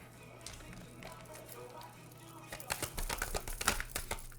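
Soft papery riffling and flicking of tarot cards being shuffled, quiet at first, then brisker, denser bursts toward the end.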